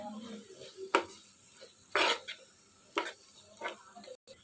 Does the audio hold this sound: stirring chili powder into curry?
yes